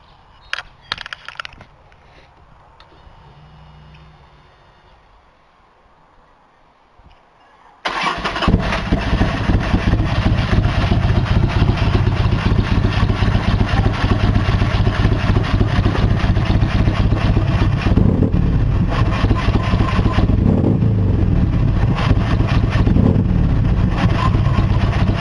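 A 2007 Buell XB12Scg motorcycle engine cranks and fires after a quiet stretch, then settles into a loud, steady, rumbling idle that runs on without a break.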